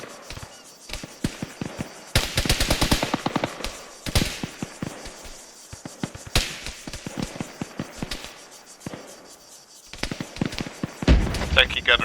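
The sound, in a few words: gunfire, long-range shooting in a video game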